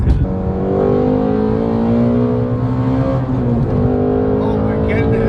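Shelby GT350 engine pulling hard at high RPM from inside the car, a loud steady rising drone with strong harmonic tones that dip briefly as the gear changes, and a voice faintly underneath.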